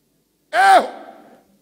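A man vocally imitates a shouted "ew" cry, a single loud, bending vocal burst with a slight echo tail that fades within about a second, heard alone after a short silence.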